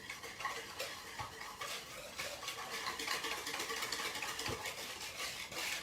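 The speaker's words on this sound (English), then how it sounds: "Stir it up." Sugar and eggs stirred in a bowl make a quiet, steady run of rapid scraping and ticking strokes from a utensil, faint and close with no talking.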